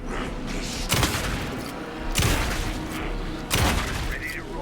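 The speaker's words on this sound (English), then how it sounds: "Anderson, pin him down with gunfire for me to get the light on him." Gunfire in the video game Alan Wake 2 comes as three separate heavy bursts of shots with booming low ends, spaced about a second apart over a continuous rumbling game background.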